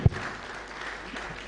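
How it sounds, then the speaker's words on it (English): An audience at a diaspora homecoming convention in Kenya claps for a speaker, a continuous, moderately distant patter of many hands after one sharp thump at the start. "Give him a round of applause."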